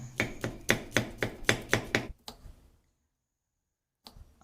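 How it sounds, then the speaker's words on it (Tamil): A knife chops an onion rapidly on a cutting board, about eight quick even strokes, then a couple of softer cuts, silence, and a final light tap. "ஆனியன் எடுத்து ஆனியனை வெட்டிக்கிறோங்க"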